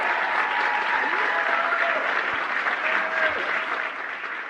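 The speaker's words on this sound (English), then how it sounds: "she gets a massive round of applause" A large audience at a formal ceremony gives Liz Cheney a massive, steady round of applause. Dense clapping holds throughout, heard at some distance and slightly muffled, with faint voices mixed in.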